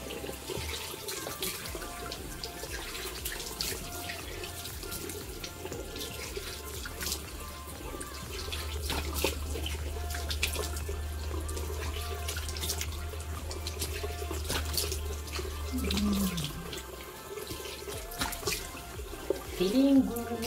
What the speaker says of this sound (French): Donc, lavons notre masque avec un peu d'eau tiède.